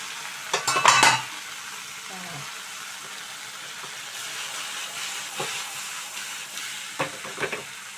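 Okra and dried shrimp curry cooking covered over a low flame: a soft, steady hiss of gentle frying, with a short clatter at the start and a few light knocks later.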